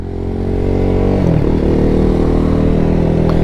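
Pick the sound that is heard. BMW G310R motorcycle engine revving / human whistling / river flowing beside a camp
BMW G310R motorcycle engine revving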